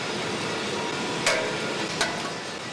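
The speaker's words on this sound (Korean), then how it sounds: "쇳물 주입 통로나 가스 배출로 등 엔진과 상관없는 부분들을 망치로 쳐서 잘라내는 것이다." Hammer blows on a cast iron engine casting to knock off runners and vents in a foundry, two sharp metallic strikes about a second apart over loud, constant industrial noise.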